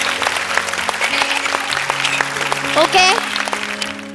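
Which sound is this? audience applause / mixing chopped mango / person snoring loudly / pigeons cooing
audience applause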